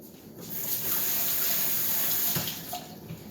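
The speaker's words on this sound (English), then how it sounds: "Now wash your hands first." Tap water runs steadily into a kitchen sink while hands are washed, a close, full splashing rush that swells and then eases slightly toward the end.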